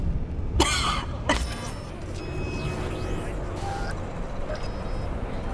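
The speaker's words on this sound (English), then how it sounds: "There's no point trying to call Panam until you finish coughing from the relic." A few harsh coughs near the start over a steady low rumble in Cyberpunk 2077, then the engine-like drone continues with faint tones and no further coughing.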